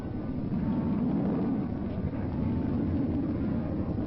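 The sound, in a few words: rocket-powered supersonic research aircraft landing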